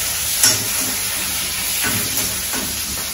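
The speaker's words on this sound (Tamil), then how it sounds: "இப்ப இந்த பூண்டு வதக்கிட்டு இருக்கும் போதே" Garlic sautés in hot oil with a steady, close sizzle and hiss, broken by a few faint stirring scrapes and no talking.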